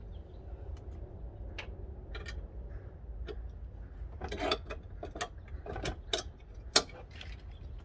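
Locking pin on a Thule cargo box rear carrier on a 3rd gen Honda Pilot, a series of faint metallic clicks and rattles scattered over several seconds, with a sharper clack near the end against a quiet background.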